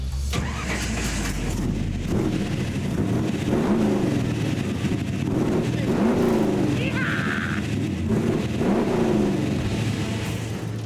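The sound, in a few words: 525HP ARCA street legal stock car engine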